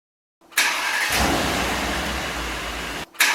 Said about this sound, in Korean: 시동 및 배기음은 생각보다 점잖습니다.